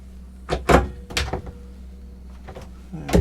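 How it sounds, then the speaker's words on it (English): Wardrobe door in a twin cabin of a Horizon V77S yacht opening, a few close knocks and a soft slide, with someone speaking nearby. "Wardrobe's in behind the door there."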